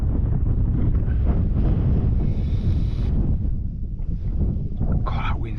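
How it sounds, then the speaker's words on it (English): Strong wind buffets the microphone on an exposed mountain, a continuous loud roar with gusting surges throughout and no clear speech. "God, that wind's fresh."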